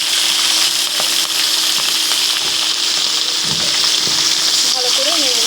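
Vegetables being fried with browned onions in a hot pan, a loud, steady sizzle close up with scattered scraping and stirring clicks, and a brief voice near the end.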